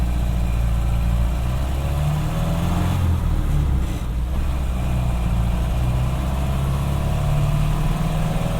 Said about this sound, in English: we'll just try to drive around in town a little bit, enjoy some of the more relaxing aspects of Model A driving